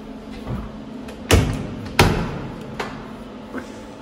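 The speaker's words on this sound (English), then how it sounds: "I've got to close the door when I come out." A car door shuts with a heavy close thump, followed by a second similar thud less than a second later and a few softer knocks, set against the low hum of a city street in Palermo, Sicily.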